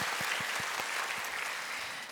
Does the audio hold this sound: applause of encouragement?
yes